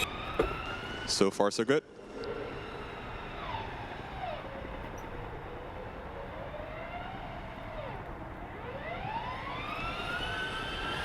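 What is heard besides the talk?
Formula Student race car engine running at Skidpad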